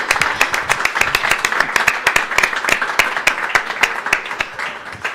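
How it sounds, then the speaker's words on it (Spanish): Audience applause at a film festival screening, the Agosto Clandestino festival: dense, sustained clapping from a crowd throughout, loud and continuous with sharp individual claps standing out. "Así que aplauso grande para ellos y para el Festival Agosto Clandestino"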